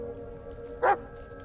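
A dog in the Blair Witch video game gives one short bark or yip, clear against a quiet, steady background hum.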